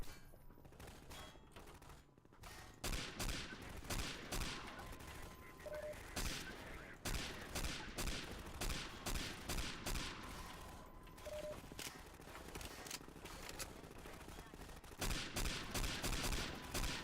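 Rapid bursts of gunfire from several weapons in a short film battle scene, loud overlapping shots with brief gaps, sometimes with shouting voices mixed in.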